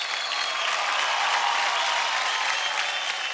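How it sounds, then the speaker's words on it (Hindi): Loud, dense audience applause for dancers on a televised dance competition stage, steady and sustained throughout with no break. "जोरदार तालियां रितिका,"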